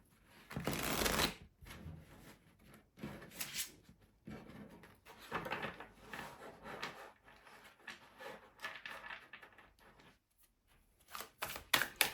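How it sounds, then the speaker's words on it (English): Close, quiet shuffling of a deck of tarot cards at a table, with irregular bursts of papery riffling and sliding between short pauses, and no talking. "Just shuffling your cards really well."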